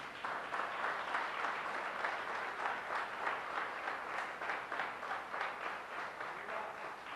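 A church congregation applauding, fairly faint but continuous clapping from many hands with a slight rhythmic pulse, no voices over it.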